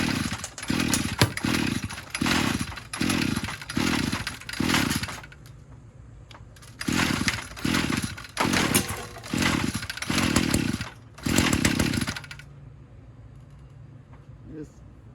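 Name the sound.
weed eater engine starting and running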